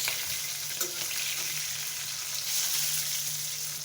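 Jhatka fish and green chilies frying together in a pan give a continuous, close crackling sizzle with no voices.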